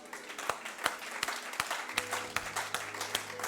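A church congregation claps in steady rhythmic applause, moderately close and sustained, with a faint low tone running underneath.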